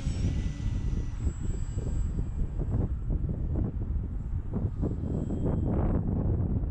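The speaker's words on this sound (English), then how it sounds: "I definitely got some wind today" Steady wind rushing and buffeting across the microphone outdoors while an FMS PA-18 Cub RC plane flies, with no voices.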